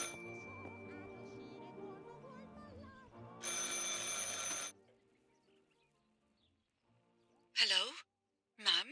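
An old telephone rings in the game Martha is Dead, a loud sustained bell burst followed by shorter clipped rings after a pause, with background music fading beneath.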